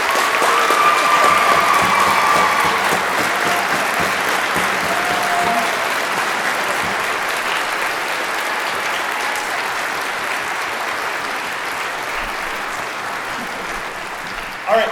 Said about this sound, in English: So let's give Maddie a round of applause.